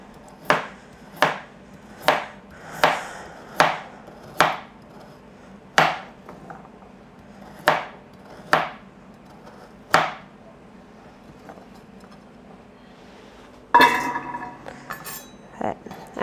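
A kitchen knife chops vegetables for chicken soup on a cutting board, with steady sharp knocks in a regular rhythm, a pause, then a louder burst of clattering at the end.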